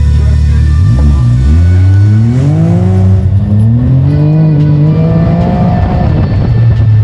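A Can-Am race vehicle pulls away at the start of the Baja 1000, its engine revving hard through rising gear-by-gear pitch sweeps. Loud and close, it accelerates continuously through a paved corner.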